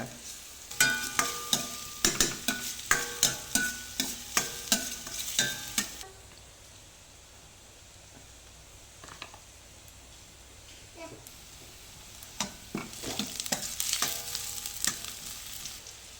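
Vegetables are stirred and sautéed in a pan for veg clear soup, with rhythmic scraping taps over a low sizzle for several seconds, then a quieter stretch before the stirring resumes.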